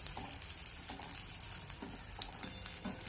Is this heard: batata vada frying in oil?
yes